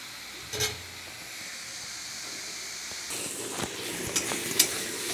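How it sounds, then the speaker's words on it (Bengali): Fenugreek leaves frying in a pan, their water cooking off with a soft continuous hiss and sizzle, broken by a few brief louder crackles and stirring clicks. "টানিয়ে ভাজা ভাজা করতে হবে"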